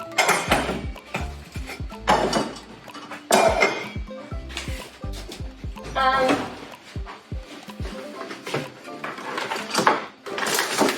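A cooking pot being handled in a home kitchen while pumpkin and quinoa are prepared, giving loud, irregular metallic clanks and knocks in bursts. A person talks intermittently between the clatters.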